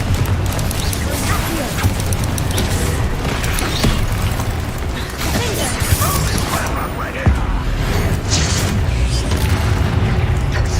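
Confringo spell blasts in Hogwarts Legacy, a dense, loud wash of booming explosions and crashing debris filling the whole stretch, with a voice partly underneath.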